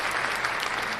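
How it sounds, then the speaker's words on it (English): A podcast crowd breaks into steady, dense applause, loud and continuous throughout, with no voices rising above the clapping. "Let's give him a round of applause"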